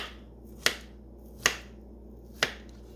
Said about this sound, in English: And then I'm going to cut them in slices